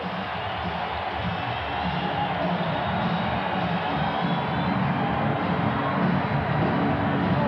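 Basketball arena crowd in Charlotte during a playoff game between the Bulls and Hornets, a steady dense roar of cheering and excited noise filling the hall, loud and continuous with no break.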